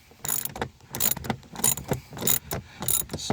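A ratchet wrench clicks rapidly in short bursts while snugging down a bolt on the window regulator of a 2008 Mazda Tribute, close and crisp with brief pauses between pulls.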